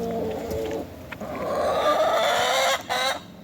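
Chickens cluck and murmur nearby in a short, continuous flurry of overlapping calls with no voices.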